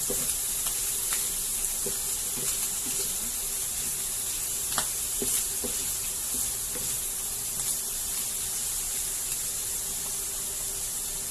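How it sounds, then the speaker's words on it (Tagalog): Ground meat frying over low heat for stuffed squid: a continuous close sizzle and hiss with occasional small pops and crackles throughout. "Low heat lang natin para hindi masunog yung giniling."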